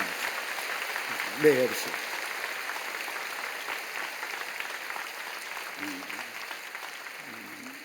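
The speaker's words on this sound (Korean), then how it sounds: "여러분 크게 박수로 환영하시지요" Korean church congregation members at a Sunday worship service clap to welcome visiting women's mission society guests, the applause soft and diffuse under a low hum, with a brief spoken voice.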